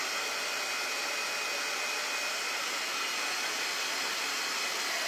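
A hair dryer blows a steady, loud, unbroken rushing hiss close by while drying a painted thrift-store frame before sanding, with no talk.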